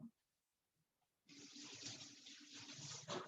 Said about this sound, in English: I've got to wash my hands.